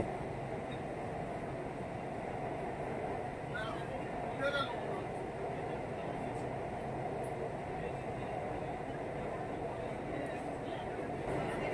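Kolkata underwater metro train running through its tunnel 16 metres beneath the Ganges, a steady loud rumble and rolling hum that fills the whole stretch without pause, with a passenger talking over it.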